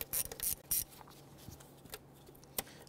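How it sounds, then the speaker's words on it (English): Ratchet with an 8 mm socket loosening the air intake hose clamp at the throttle body of a 2008-2013 Infiniti G37 3.7L V6, giving several quick close clicking bursts followed by fainter scattered ticks. "Using an 8 millimeter socket, we're gonna loosen our hose clamp for our air intake tube to our throttle body"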